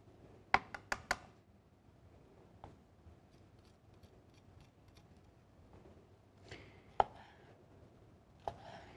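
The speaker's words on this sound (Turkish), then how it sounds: "kapya biberimi de ufak ufak doğrayacağım" A knife chops red capsicum pepper on a board in a home kitchen, with a quick burst of four sharp cuts near the start, then scattered single taps and a few more cuts later, close and fairly quiet.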